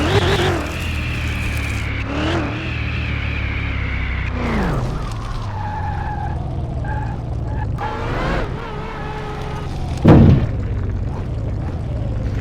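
A Range Rover in Car Mechanic Simulator 2021 speeds down a runway, its engine droning loud and steady with pitch climbing through gear changes, plus tyre noise and a sharp thump near the end.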